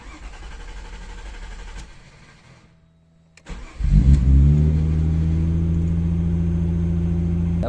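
A Mazda V6 car engine cranks after a brief quiet pause, catches and fires up, then revs and settles into a loud, steady running drone close by for several seconds.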